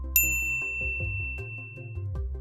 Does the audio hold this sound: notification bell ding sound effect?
yes